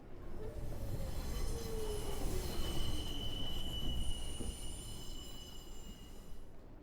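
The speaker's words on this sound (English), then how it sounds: "The train glided up to the platform." A Yamanote line train pulls into a platform in Shibuya, Tokyo, with steady wheel squeal and high metallic whines over a rolling rumble, moderately close.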